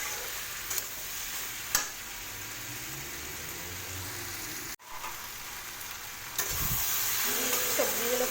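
Fried vegetables for a bitter gourd curry are stirred in a hot pan, giving a steady sizzle with a few sharp spatula scrapes, a brief dropout midway, then louder stirring and frying toward the end.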